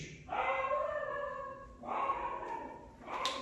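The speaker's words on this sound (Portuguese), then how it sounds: "Os cachorros estão ferozes hoje." A dog gives a few drawn-out, howling barks, three separate calls with short pauses between, moderately close.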